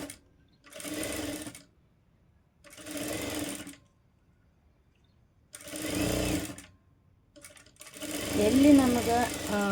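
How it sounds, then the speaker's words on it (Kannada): Domestic sewing machine stitching the armhole of a blouse on a normal-size straight stitch, heard in four separate bursts of steady whirring with short pauses between, fairly close, and no talking. "ಇವಾಗ ನಾನು ನಂಬರ್ ನಾರ್ಮಲ್ ಸೈಜ್ ಸ್ಟಿಚ್ಚಲ್ಲೇ ಇಟ್ಕೊಂಡು ಆರ್ಮೋಲ್ನ ಸ್ಟಿಚ್ ಮಾಡ್ಕೋತೀನಿ"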